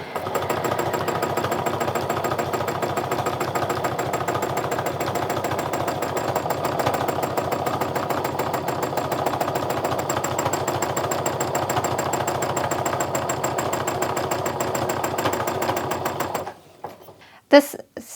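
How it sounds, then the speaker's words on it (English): Sewing machine running steadily for free motion quilting of a heart meander design, a fast rapid needle rattle held close and loud for about sixteen seconds before stopping, followed by a couple of small clicks. "So I'm just going to quilt around this and then quilt my last little swirl"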